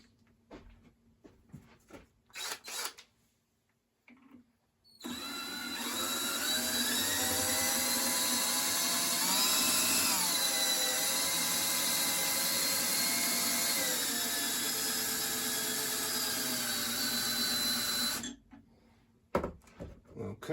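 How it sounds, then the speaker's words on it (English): A mini milling machine runs steadily for about thirteen seconds, a loud whirring motor whine with shifting pitch as it moves through its travel, starting and stopping abruptly with quiet room sound on either side. "I'm messing around on the mini mill here"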